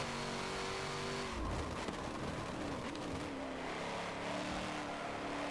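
A race car in Forza Motorsport 7 roars under hard throttle, its engine note climbing and shifting with a strong continuous drone, loud and close without any voices over it.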